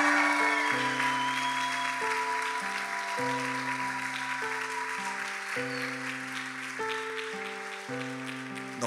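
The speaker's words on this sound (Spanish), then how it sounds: "Ese aplauso es para el Rey." Church congregation applauding during a Sunday homily, a steady wash of clapping running beneath loud, sustained keyboard or organ chords that shift every second or so.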